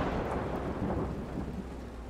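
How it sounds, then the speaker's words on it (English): Thunder rumbles low and heavy under steady rain in the video game Road 96, a continuous loud storm with no voices. "That's why I'm out here in the rain and not in my cab."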